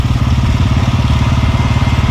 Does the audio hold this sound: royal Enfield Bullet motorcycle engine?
yes